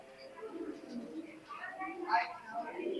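Teddy pigeons coo softly in a loft, faint and low beneath someone talking close by.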